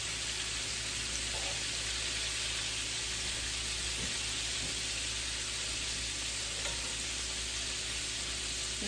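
Homemade chicken frying in a pot of hot oil, a dense, steady sizzle and crackle that fills the sound without pause, loud and close, no talking.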